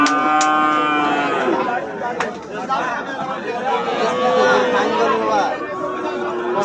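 Cattle low and moo repeatedly at a busy rural livestock haat in Bangladesh where heifers are sold, the calls loud and close over steady crowd chatter and nearby talking.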